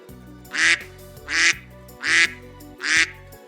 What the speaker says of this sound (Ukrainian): це дика качка.